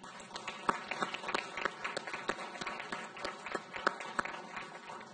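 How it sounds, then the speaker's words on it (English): A luncheon audience at a bar association pro bono awards ceremony gives a round of applause, steady moderate clapping from many hands throughout with no voices over it. "Please join me in giving all of the Lee County Bar Association Pro Bono Superstars a round of applause."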